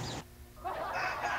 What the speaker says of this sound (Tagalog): manok yung naririnig ko.